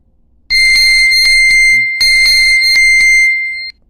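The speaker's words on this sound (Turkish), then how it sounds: "Bugün sizlerle birlikte Mi Band 5'ten alarm sesi dinlettik" A Mi Band 5 find-device alarm rings loud and shrill close by in two long bursts of pulsing beeps, separated by a short pause.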